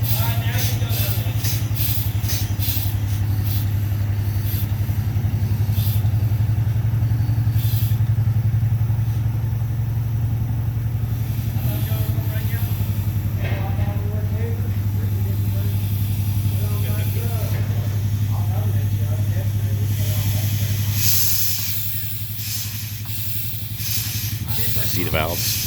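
An antique engine at a power expo runs in reverse, giving a loud, close, steady hum with hissing and rhythmic valve clatter throughout, while people talk over it.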